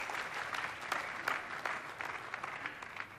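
Church congregation clapping during a morning sermon, a steady wash of many hands heard from a distance at fairly low level, with no talking over it.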